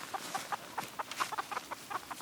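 Hens clucking in a farmyard flock, a run of short repeated clucks in an uneven rhythm, fairly close and moderately loud, with no voices over them.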